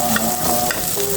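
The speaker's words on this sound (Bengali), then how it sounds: "একটু হালকা কালার করে পেঁয়াজটা ভাজা হয়ে গেছে" Onion fries in a pan with salt and turmeric, a close, steady sizzle with brief scraping stirs over about a second.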